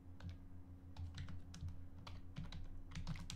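Rapid keystrokes on a computer keyboard while writing a PHP file, an irregular run of close, crisp clicks over a steady low hum, with no talking.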